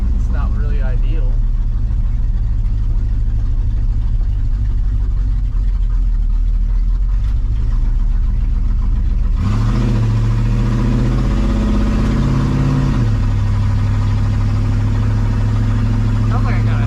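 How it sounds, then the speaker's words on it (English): A 1972 Chevrolet C10 engine running with an exhaust header leak, a loud, steady low rumble with a rough, ticking edge that shifts in pitch partway through, as someone talks over it. "Sounds like I got a header leak"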